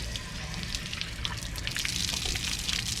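Water rushes steadily from an RV water heater tank through a clean-out hose, a continuous splashing gush with faint dripping, carrying loose debris and heard alone without talk.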